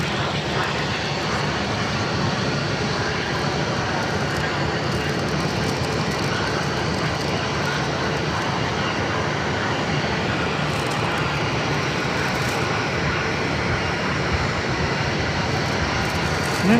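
An airliner takes off at Phoenix airport, its engines giving a continuous broad roar that holds steady and strong for the whole stretch, heard from outside at a moderate distance.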